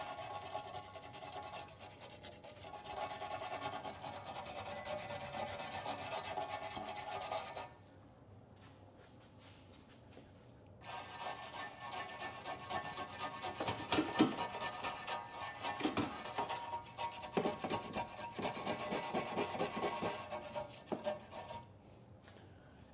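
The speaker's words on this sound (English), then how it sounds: "Then I'll come in behind it with a wire brush and finish cleaning up" Hand wire brush rasps against rusty car underbody metal in rapid, continuous back-and-forth strokes, close and fairly loud, pausing for a few seconds midway before the scrubbing resumes.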